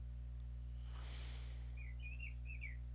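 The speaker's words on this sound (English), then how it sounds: "How did I hear birds?" A few faint high bird chirps near the end, short twittering calls over a loud steady electrical hum, preceded by a soft rustling hiss.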